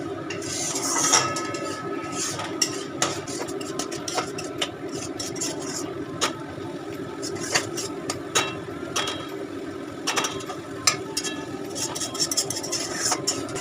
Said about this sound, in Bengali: এবার আমি মশলাটাকে কষাবো ভালো করে আর পাশে গরম জল বসিয়ে দিয়েছি